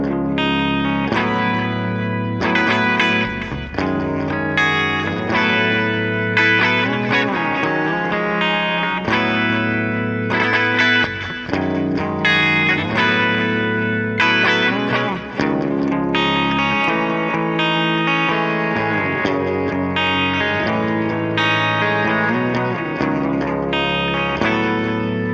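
Electric guitar playing the clean sliding part of a song, sustained chords and notes gliding between pitches, bright and loud with effects coloring the tone, continuous without talk.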